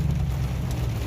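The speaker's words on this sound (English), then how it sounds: "It just won't stop raining." Heavy rain pours down steadily outdoors, a dense, even wash of noise filling the short stretch with no break or voices.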